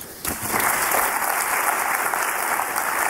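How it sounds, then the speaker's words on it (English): A secondary-school poetry slam audience in Trinidad erupts into loud, sustained applause after a speech, the clapping starting abruptly and staying full and even throughout. "A round of applause again"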